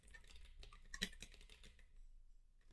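Faint clicking of keys on a computer keyboard, quick irregular taps with one sharper strike, quiet and close with no talking.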